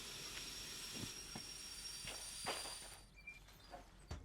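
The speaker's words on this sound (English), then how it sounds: "And now the brakes." Locomotive brakes in the train simulator Derail Valley release a steady broad hiss that runs for about three seconds and then cuts off, leaving faint clanks and knocks in the quieter tail.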